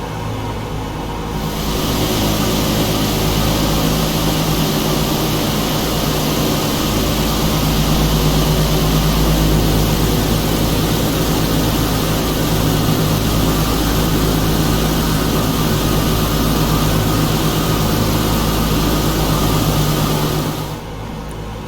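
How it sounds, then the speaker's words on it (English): A Douglas DC-6 propeller airliner climbs out in Microsoft Flight Simulator 2020, giving a steady, loud, droning engine and propeller hum that fades in and holds constant for about twenty seconds with no talk. "So while we let this airplane climb out"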